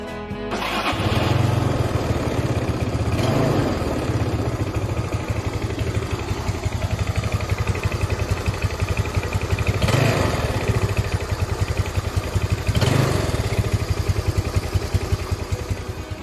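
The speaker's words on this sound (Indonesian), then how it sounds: "kurang lebih kayak gitu suara mesinnya" A Yamaha Nuvo motorcycle engine runs at a steady, close idle, with a few brief revs or throttle blips spaced through the run.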